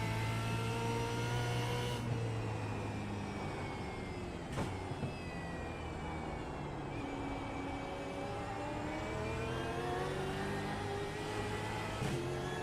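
Supercar engine lapping the Bathurst circuit in iRacing, a steady droning engine note that rises and falls in pitch through gear changes, with a few brief shifts, at moderate, constant level and no talk.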